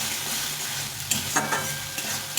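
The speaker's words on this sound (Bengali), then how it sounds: "এটাকে ভালো করে কষিয়ে নিই তেল ছাড়া অবধি ভালো করে কষে নিতে হবে" Masala for a green rohu fish curry is stir-fried in oil, a close, continuous sizzle punctuated by several scraping, clacking strokes of a spatula against the pan.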